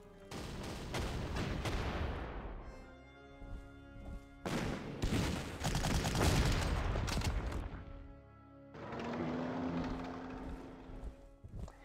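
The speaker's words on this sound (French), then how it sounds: "Voilà, un petit tir d'artillerie." Artillery fire in a World War II strategy video game, three bursts of loud booming gunfire separated by short gaps, alone without talk.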